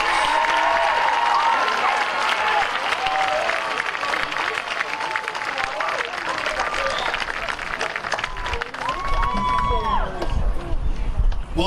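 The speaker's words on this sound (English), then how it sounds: "How about a round of applause for our fourth row?" Sustained applause and cheering from a large crowd at the 2019 Apollo-Ridge High School graduation ceremony, honoring a row of graduates; dense, steady clapping runs throughout with scattered whoops and crowd murmur.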